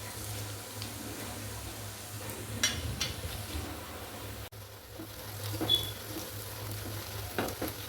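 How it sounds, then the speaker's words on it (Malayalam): Green chili, crushed ginger and curry leaves sauté in a pan for a Kerala kadal bral (sea mussel) curry, giving a steady close sizzle with occasional scraping stir strokes and soft clatters, no voices. "ഇത്രയും ഇട്ട് കൊടുത്ത് നമുക്ക് ഒന്നും കൂടി വഴറ്റാം"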